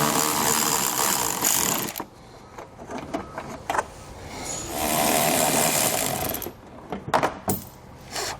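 A power tool whirs in bursts while 10mm bolts come out of the fender on a 2017 Ford Expedition, loud spurts of motor noise broken by pauses, clicks and metallic handling sounds nearby.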